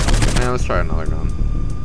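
Gunfire from the video game Saints Row IV comes as a loud, dense burst of rapid shots over a couple of seconds, with a voice speaking briefly in the mix.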